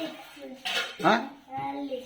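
A bowl is set down among dishes and cutlery, giving a few close clinks and clatters of crockery and metal over about two seconds, with faint household sound behind.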